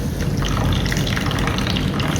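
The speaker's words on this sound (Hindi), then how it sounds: "तो ऐसे हमने सारा इसको दबा के अच्छे तरीके से इधर पानी निकाल लेना है इसके अंदर से" Water is squeezed by hand from grated onion and runs out in a steady wet trickle with dripping, close and fairly loud, with no voices.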